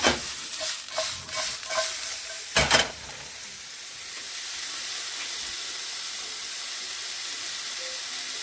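Mushrooms with onions and garlic roasting in a pan, a few stirring scrapes and clatters at first, then a steady, close hissing sizzle that carries on alone.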